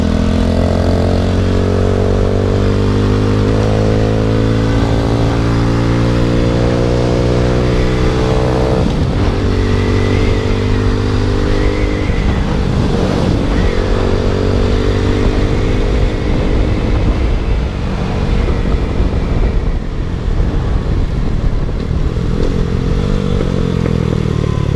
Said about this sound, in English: And the little exhaust I put on here.